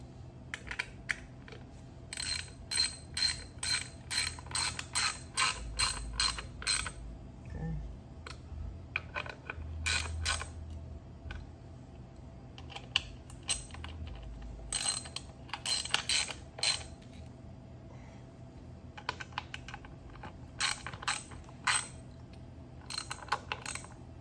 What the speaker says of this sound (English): we're gonna go ahead and do this by hand with a regular ratchet, using common sense.